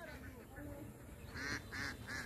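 Ducks roaming near a rice paddy give three nasal quacks in a quick series, faint and somewhat distant over a low outdoor rumble.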